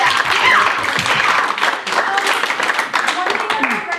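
A small theater audience at an improv comedy show claps and cheers, loud and lively, mixed with some voices.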